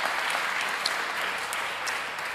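A church congregation claps hands together during a Sunday worship service, a dense, steady patter of many palms filling the room without pause, fairly loud and even throughout with no voices standing out.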